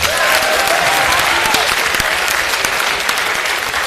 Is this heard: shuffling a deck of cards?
no